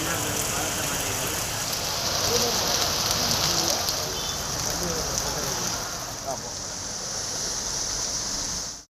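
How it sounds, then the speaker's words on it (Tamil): Heavy rain pours in the delta region of Tamil Nadu, a loud, steady hiss of falling water that holds throughout and cuts off abruptly at the end. "பரவலாக மழை பெய்தது."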